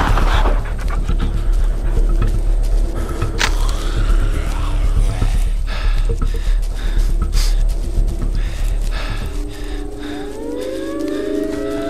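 Dog panting in the zombie survival game Into the Dead 2, rhythmic breathing heard close amid a droning siren-like wail and other game noises, with no talking.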